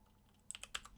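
A short, faint burst of about five quick key clicks on a computer keyboard as a command is entered in a CAD program, with light clicks closely spaced in a quiet room.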